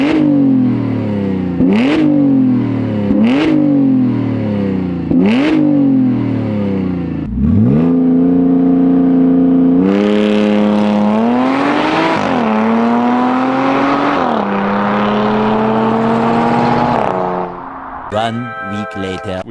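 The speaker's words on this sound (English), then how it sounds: "we're going to give you guys some exhaust clips, some revs, some flybys" An Audi car engine revs repeatedly in sharp bursts through its exhaust, then climbs through long roaring pulls with exhaust burble, loud and close.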